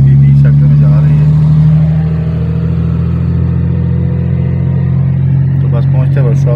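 A Mazda RX8 drives along at a steady pace, its engine droning loud and close in a continuous low hum while someone talks over it.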